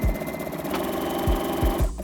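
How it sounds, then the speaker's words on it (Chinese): A sewing machine stitches a zigzag edge on fabric at width 5 and length 2, giving a brief, rapid, steady mechanical whir with rhythmic needle thumps, close and alone without talk. "我现在用的是之字形而已，然后我的针宽是5，针长是2"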